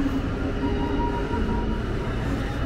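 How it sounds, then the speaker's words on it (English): A double-decker train rumbles at Basel station, a steady, loud and even drone that fills the whole stretch without a break, with no voices over it. "Oh wow, look at that, a double decker train."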